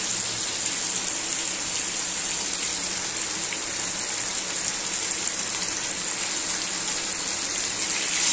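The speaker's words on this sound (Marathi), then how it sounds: "बाहेर पाऊस पडतोय." Steady rain falling outside a home kitchen, a continuous even hiss of drops with no pauses, fairly loud and close throughout.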